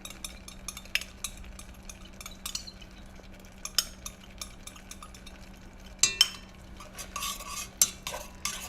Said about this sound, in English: Give it a mix and you'll kind of see everything start to come together.